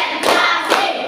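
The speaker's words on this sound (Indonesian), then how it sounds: "Tepuk 1, tepuk 2, tepuk 3, tepuk" Two sharp hand claps, close and loud, landing about half a second apart as part of a counted clapping chant.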